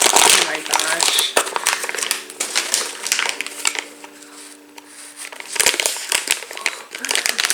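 Crinkly plastic packaging crunches and rustles as it is cut open, with dense crackling bursts near and loud, pausing briefly in the middle before more crumpling; a voice talks over parts of it.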